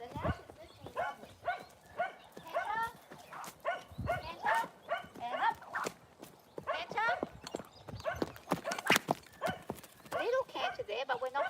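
Horse hooves trotting in a steady, even rhythm during a riding session, close and clear, with a rider talking over the footfalls.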